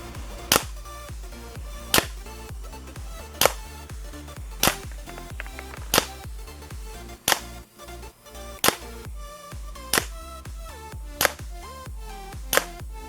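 A GHK G5 gas blowback airsoft rifle fires about eleven sharp, loud single shots at a steady pace of roughly one every 1.3 seconds, each crack with a mechanical clack, over a low background hum.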